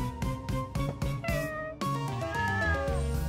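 A cartoon cat meows repeatedly in a quick series of short, tonal calls, then gives one longer drawn-out meow, loud and close with no talk.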